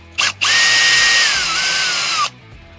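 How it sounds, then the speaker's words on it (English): A power drill fitted with a T30 Torx bit backs a trim screw out of a Ford Bronco interior panel. A short whir comes first, then a loud, steady whine of about two seconds that stops abruptly, with no talk. "you're gonna put your T30 in your drill and you're gonna remove either the grab handle or the trim piece"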